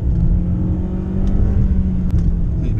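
An MG HS SUV accelerates in second gear, its engine a loud, steady low rumble heard from inside the cabin, with faint rattles over it and no talking.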